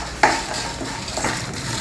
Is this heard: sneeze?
no